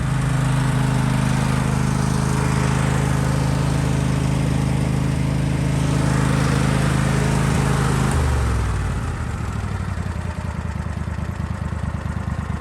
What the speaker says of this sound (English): Gonna try some mowing, see how it runs.